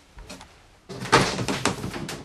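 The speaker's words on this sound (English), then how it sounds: "Close this door." A bathroom door closes inside a 2013 Forest River Wildwood 36BHBS bunkhouse destination travel trailer, a loud close near the middle followed by faint rattling.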